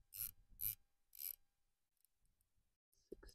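Riflescope turret on a Bergara Wilderness Ridge .300WM being dialed outdoors, three faint short bursts of clicking in quick succession, then quiet with a small thump at the end.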